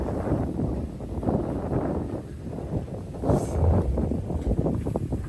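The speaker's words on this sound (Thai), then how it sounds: "ลมหนาวมาแล้วลมบ่อยๆ" Cold wind blowing outdoors on a Thai rural farm where rice is dried and cattle are kept, a steady broadband rush with gusts swelling and fading throughout, no voices.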